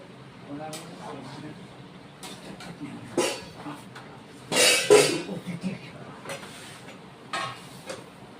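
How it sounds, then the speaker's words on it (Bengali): Fried paneer pieces tumble into a pan of peas curry with a brief burst of close clattering and scraping. Softer utensil taps come before and after, and a voice murmurs quietly in the background. "ভেজে রাখা পনিরগুলি এখন দিয়ে দিচ্ছি"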